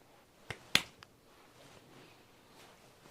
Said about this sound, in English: It's hard to clap when you have a paintbrush in your hand